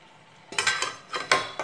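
A metal lid is set onto a pot of spicy jackfruit curry with two or three sharp clattering clinks, close and bright, after a brief quiet moment.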